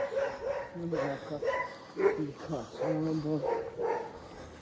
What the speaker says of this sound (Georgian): ძაღლის ყეფასაც გაიგონებთ ხალხო